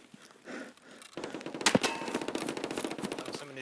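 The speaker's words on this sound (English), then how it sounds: "Oh, someone is shooting at me." Video game gunfire arrives as rapid, close cracks and a sharp loud shot midway, building into a busy stream of rattling shots over quieter background noise.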